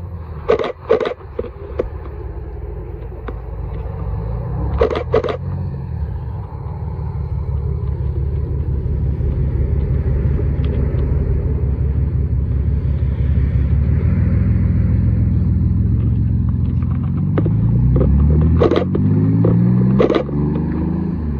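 Cars leave Oulton Park circuit in 2024, crawling slowly over bumps with a deep, close engine rumble that swells and rises in revs as they pass, with sharp clicks and knocks near the start and end.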